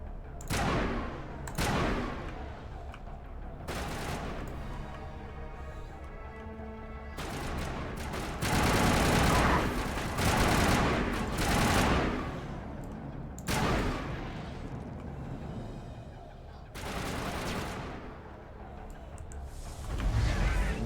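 Gunfire in Mass Effect video game combat against Batarians, with bursts of shots, heavy impacts and explosions recurring every few seconds, loud and dense, alone without talk.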